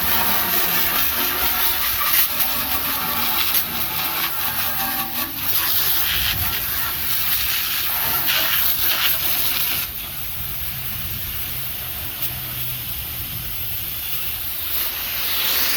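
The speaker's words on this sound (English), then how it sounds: "I can finally give it the hose, rinse it off." Garden hose spraying water to rinse off a concrete saw outdoors, a steady broadband hiss running continuously and fairly close, dropping slightly in level partway through as the spray shifts.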